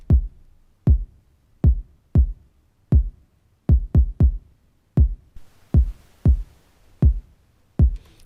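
Afrobeats kick drum pattern played alone, deep punchy thumps in a syncopated groove of single and double hits, close and dry with nothing else in the mix.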